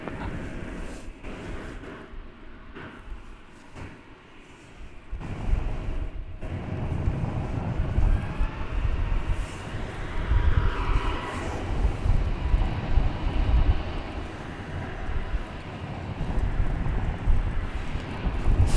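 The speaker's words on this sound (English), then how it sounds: "Flight 1706, an Airbus A321neo, off to the City of Angels of Los Angeles." An American Airlines Airbus A321neo takes off at Dallas/Fort Worth Airport, its engine roar swelling from a distant rumble into a loud, sustained low thunder that carries through to the end.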